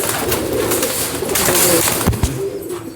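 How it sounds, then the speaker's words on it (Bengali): Madrasi pigeons in a loft coo loudly and steadily at close range, a dense run of throaty calls filling the space with no talking. "পায়রা এই একটা নর আছে।"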